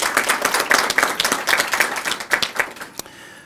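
Audience applause at a county executive's announcement of leadership changes, a room of people clapping in a brisk, fairly close patter that tapers off after about three seconds.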